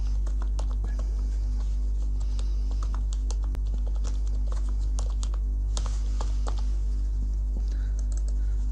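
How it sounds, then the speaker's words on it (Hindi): Typing on a computer keyboard while working in a Microsoft Excel spreadsheet: rapid, irregular clicking keystrokes over a constant low hum, close and clear, with no talking. "तो अगर मैं यहाँ पे कुछ भी टाइप करूँ"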